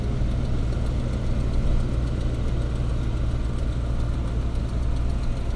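A 1000-horsepower Dodge Charger Scat at an airstrip drag event, its engine holding a loud, deep, steady idle with a rough, lumpy rumble, close by and with no talk.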